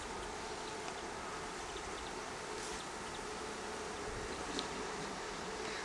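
A small bee swarm buzzes, a faint steady hum with scattered individual buzzes close by.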